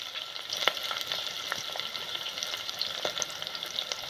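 Sliced onions and green chilies fry in a pan, a steady bright hiss of oil with scattered crackles and small pops throughout, moderately quiet and close, no one speaking.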